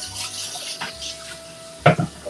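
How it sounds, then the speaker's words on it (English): A bowl is rinsed under a running kitchen faucet, a soft steady water flow close by with a brief louder splash near the end. "Now that that's done, okay, rinse out this bowl."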